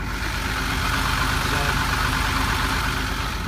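Steady, loud boat engine drone in the engine room of a 45-foot Bayliner Pilothouse, a constant low rumble with no pauses throughout.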